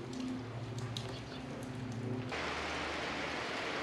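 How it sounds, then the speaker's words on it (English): Heavy rain on a farm makes a dense, even hiss that takes over suddenly after a low humming drone, and it stays loud and steady to the end. "It is chucking down rain again."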